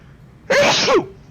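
A single sharp human sneeze, close and loud, lasting about half a second with a quick explosive onset and no other sound around it.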